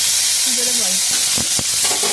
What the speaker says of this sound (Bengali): আলুগুলো এর মধ্যে দিয়ে ভাজা করে নেবো